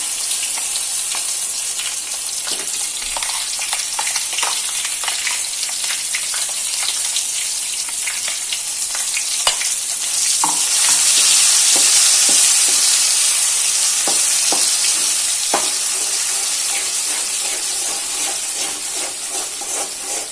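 Pirandai, ginger and garlic fry in oil for thuvaiyal, giving a loud, continuous sizzle dotted with sharp crackles and the scrape of stirring, swelling slightly midway.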